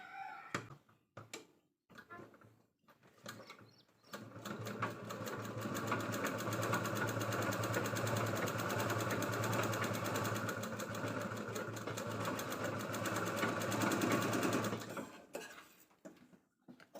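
A sewing machine stitches a zipper onto fabric for a pocket made from leftover blouse border cloth, running as a steady, even whir for about eleven seconds after a few short handling clicks, then stopping.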